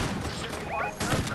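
Gunfire from players in a Fortnite match crackles in quick bursts amid game noise, a short volley near the start and another sharp burst near the end, with a voice talking over it.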